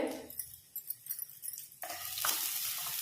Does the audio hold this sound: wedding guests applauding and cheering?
no